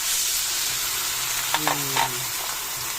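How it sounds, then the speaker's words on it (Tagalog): Bean sprout spring rolls (lumpia togue) fry in hot oil with a steady crackling sizzle, while a faint stirring or scraping sound and a brief tonal squeak rise over it. "Kaya nagluluto tayo guys ng lumpia."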